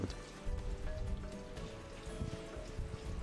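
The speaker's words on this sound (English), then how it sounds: "So now we can add some spices to it. Fry that a little bit." Spices sizzling in hot melted ghee for a biryani, a soft, steady crackle and spatter of small pops, fairly quiet and continuous with no talk.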